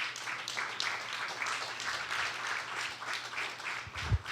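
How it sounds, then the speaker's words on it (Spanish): A church congregation at a Spanish-language worship service breaks into moderate, fairly distant applause that holds steady for several seconds, with a low hum underneath and a thump at the end. "Dale un aplauso al Señor."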